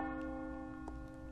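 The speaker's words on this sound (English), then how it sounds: "The death bell tolls?" The death bell in Resident Evil 4 Remake's Separate Ways tolls with a sustained, ringing tone that hangs steadily, with faint clicks over it.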